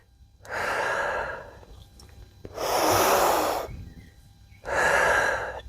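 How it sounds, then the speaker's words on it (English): Heavy breathing during an at-home calisthenics and mobility workout: three long, loud breaths, each a sustained airy rush separated by short quiet pauses, close to the microphone. "Breathe in. Breathe out."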